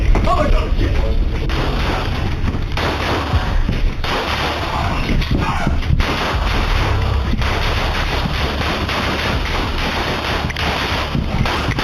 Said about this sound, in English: Pendleton resumed firing, striking Officer Cody Holte and Corporal Andrew Nod